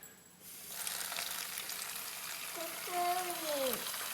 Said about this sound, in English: Why don't you turn on the water?